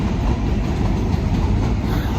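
A Chicago L train rolls by close and loud, a steady broadband rumble of wheels and cars with no breaks and no voices over it.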